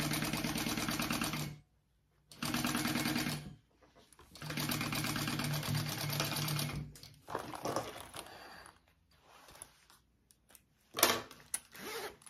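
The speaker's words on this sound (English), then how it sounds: "We're just gonna baste that onto the top, and then we'll add our top piece." A sewing machine basts a zipper pocket onto the top of a fabric crossbody bag, running in several bursts of steady whirring stitching separated by short pauses, loud and close with no talk.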